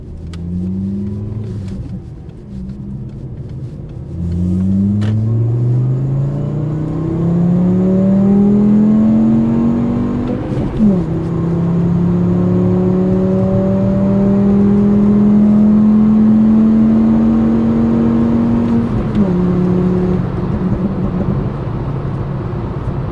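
Tuned 2.5-litre VW Rabbit accelerating through the gears, engine note climbing steadily then dropping at each shift, loud and close from inside the car over a long smooth pull, no talking.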